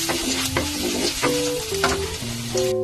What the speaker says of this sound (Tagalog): Una ko na nga ang igigisa itong luya mga mare at iintayin lang natin niyang mag golden brown